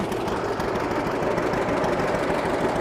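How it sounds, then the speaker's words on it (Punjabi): A 1938-model tractor with iron wheels runs nearby, a steady, dense engine rumble with a knocking, rattling texture that stays even and loud throughout, with no talk over it. "ਦੇਖੋ 1938 ਮਾਡਲ ਟਰੈਕਟਰ ਚੱਲੀ ਜਾਂਦਾ ਚੱਕੇ ਲੋਹੇ ਦੇ ਆ"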